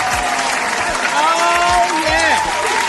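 Sustained applause and hand claps fill the whole stretch at a steady, fairly loud level, with a voice exclaiming over the top.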